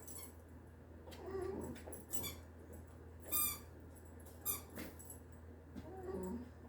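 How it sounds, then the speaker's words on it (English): A dog chews on a squeaky toy, making several short, sharp squeaks at irregular intervals alongside soft whimpering noises, close by with no speech. "He's squeaking that toy."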